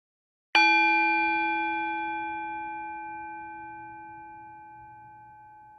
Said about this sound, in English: when you hear my bell, pause